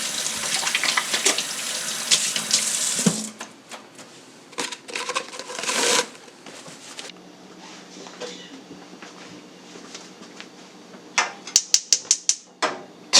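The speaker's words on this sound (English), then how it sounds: "Especially after touching raw meat, man. Wash your hands." Hands being washed under a running kitchen tap while cooking butter chicken, after handling raw meat: steady close water flow with splashing and rubbing bursts, stopping and restarting with sharp clatters near the end.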